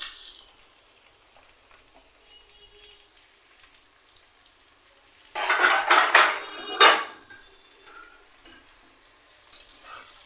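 Potatoes dropped into a pan with chopped onion sizzle up suddenly after a quiet stretch, a loud crackling frying burst with stirring clatter that eases back to a soft hiss.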